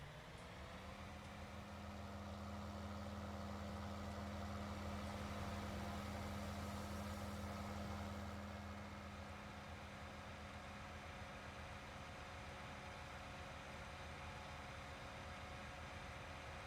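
Tractor engine idling in Farming Simulator 19, a steady low hum with a constant drone, slightly louder in the middle before settling back to a quieter idle.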